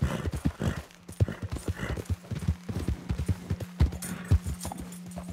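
Horse hooves clip-clop in a steady, close trotting rhythm in Red Dead Redemption 2, with a faint whinny and a low steady hum beneath the hoofbeats.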